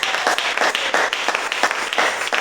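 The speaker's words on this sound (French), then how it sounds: "Est-ce qu'on peut applaudir pour notre maison?" Audience applause at a church gathering, a loud group clapping in a rhythmic, pulsing pattern of roughly even beats, close and steady throughout.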